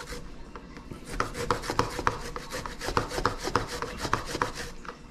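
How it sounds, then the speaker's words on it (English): Fresh ginger grated for a coconut curry sauce, a steady run of close, rhythmic rasping strokes on a grater, each a short scratchy burst repeating about three times a second. "me gonna grate another piece of ginger"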